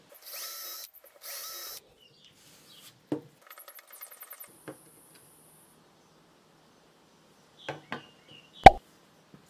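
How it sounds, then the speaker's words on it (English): A power drill bores holes for bracket screws on a DIY wooden display stand, two short whirring bursts followed by scattered clicks, knocks and a sharp thump. "Now drill the holes and attach the bracket with screws."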